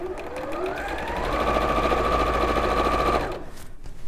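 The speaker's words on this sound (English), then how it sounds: "So we're going to sew these just with 1/4 inch seam allowance" Sewing machine stitching a quarter-inch seam, a fast steady mechanical whir that ramps up, runs evenly for a couple of seconds, then stops abruptly.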